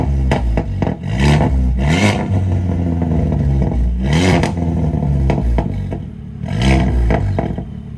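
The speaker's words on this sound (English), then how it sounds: "Turn on your car, bro." A Nissan Skyline R34 engine rumbles close by and revs hard three times, each throttle blip climbing in pitch before dropping back to a throaty idle.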